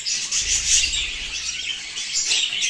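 Budgerigar chicks, seven or eight of them, chirp in a nest box alongside unhatched eggs, producing a steady, close, fairly loud high-pitched chatter with a scratchy, rasping texture and no talking.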